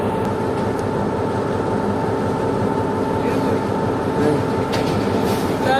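An express train running between Quetta and Peshawar overtakes at Habibkot Junction railway station, giving a loud, steady rumble of rolling wheels and carriages that fills the scene, with faint screeches near the end.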